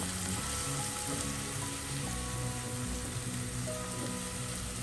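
Onions sautéing in oil for goat liver pepper fry on a low flame, a dense, even hiss like light rain, with faint occasional stirring, steady and fairly quiet with no talking.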